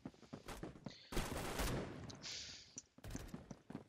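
Shotgun fire in the video game Phantom Forces: several loud, broadband blasts, with a long burst through the middle and short bangs at the start and end, over game noise.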